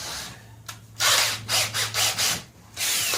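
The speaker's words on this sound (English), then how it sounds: "I'm going to go after some of these areas now with a wire brush on a drill" Wire brush spinning on a power drill while cleaning broken areas of a John Deere L100 lawn tractor hood, heard as several loud abrasive whirring bursts with short pauses between them over a steady low hum.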